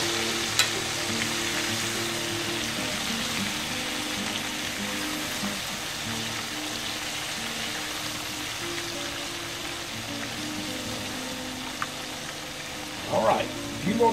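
Fish fry in a pot of oil in a garage, with a steady, even sizzle throughout and a brief clatter near the end.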